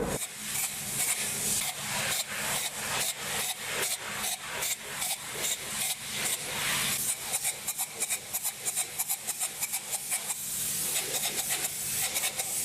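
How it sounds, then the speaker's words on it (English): Spray foam insulation is shot into an expansion joint between concrete tip-up wall panels and the floor of a commercial building, making repeated close, loud hissing bursts in a quick, uneven rhythm with no talking. "We'll be filling that with foam to make sure we've got a nice airtight seal."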